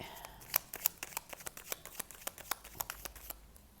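Tarot cards shuffled and cut close by, a quick, even train of soft crisp slaps and riffles, fairly quiet and free of speech.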